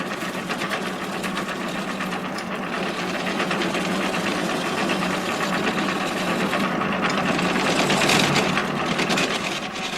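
Wood lathe turning delicate wooden spindles for horse-drawn carriage gigs in a 1978 carriage-building workshop, giving a steady, continuous whirring and rattling hum for the whole stretch, fairly loud and close with no talking.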